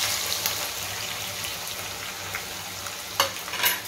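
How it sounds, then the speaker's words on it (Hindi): Onions frying in a pan with oil, bay leaves and cumin, a constant close sizzle with low bubbling and a couple of louder scraping stirs near the end, no talk. "प्याज फ्राई हो रही है"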